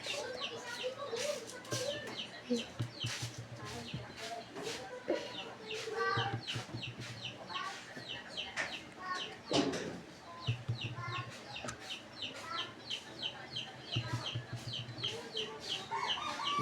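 Chickens cluck and squawk in an agitated way at middle distance, with repeated short calls over steady background noise and occasional faint voices in the distance.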